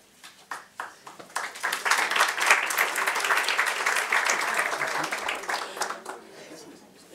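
Audience applause at a conference as a speaker is introduced, starting with a few scattered claps, swelling into a full, sustained round from a crowd, then thinning out to individual claps.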